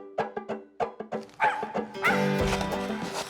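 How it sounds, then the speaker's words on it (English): A hunting dog barks and yips excitedly during a public-land squirrel hunt, a quick string of close, sharp barks that builds into a louder, continuous whining yelp. "That dog likes it more than we do."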